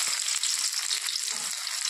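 Garlic, chopped onion and green chili frying together in hot oil, a steady bright sizzle with faint stirring scrapes, close and continuous.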